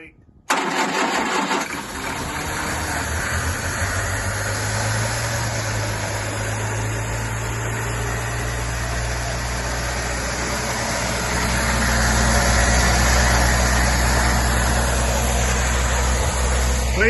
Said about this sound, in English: I think the iron head engines actually do seem to tick over a lot nicer than the alloy ones